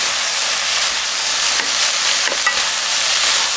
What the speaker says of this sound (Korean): 야채는 살짝 굽는 게 좋아요